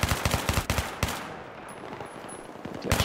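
Enemy machine gun fire in Battlefield 3 rattles out in loud rapid bursts at the start, fades during a quieter stretch, then returns with another burst at the end.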